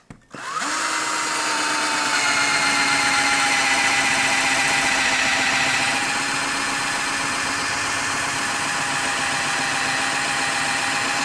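A Total 18V cordless drill runs continuously for about eleven seconds after a quick start, its steady motor whine close and loud, with no talking over it.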